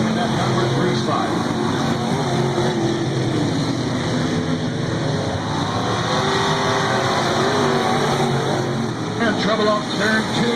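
Dirt track sport mod race cars roar steadily around the oval, their engines loud and continuous, while a race announcer talks over them.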